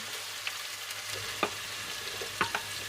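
Finely cut potatoes fry with ginger-garlic paste in a pan for savory potato vermicelli, a low continuous sizzle punctuated by a few distinct stirring clicks and scrapes, close and without speech.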